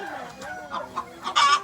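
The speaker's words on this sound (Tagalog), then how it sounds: "Ayan yung mga manok, mga ka-BSK, oh." Chickens cluck in short bursts around a building site in Subic, ending in a louder, sharper squawk, with no talk over them.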